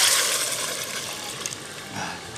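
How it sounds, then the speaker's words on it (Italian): Water poured into a pot for a vegetable and fresh bean soup, a steady broadband rushing pour heard close and alone for a couple of seconds. "aggiungo acqua"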